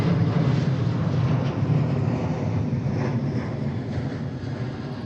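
An airliner in Aurora livery passes overhead at Seattle airport, a broad low roar heavy in the bass with wind buffeting the microphone, loudest at the start and easing slightly.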